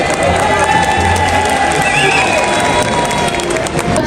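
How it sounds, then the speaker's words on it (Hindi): An awards audience applauds and cheers for the News Live team, named best program of the year 2024, a loud, continuous blend of clapping, cheering and shouting voices. "भरपूर तालियां"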